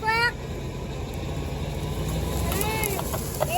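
A truck engine strains to drag a tractor tire out of the ground, giving a steady low droning rumble that holds throughout, with brief voices and a few outdoor chirps over it.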